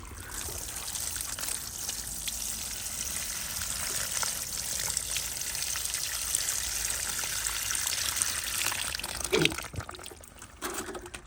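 Water poured onto freshly potted palms settling the compost, a steady close trickling and splashing stream running continuously for most of the stretch before tapering off with a brief knock near the end.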